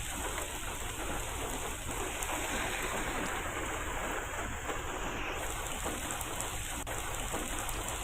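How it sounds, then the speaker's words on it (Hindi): Steady, heavy rain pours continuously in Chhattisgarh, a dense broadband hiss of drops on surfaces that stays even and unbroken throughout, with no voices. "तो कल से ही लगातार बारिश हो रही है और आज भी बारिश हो रही है।"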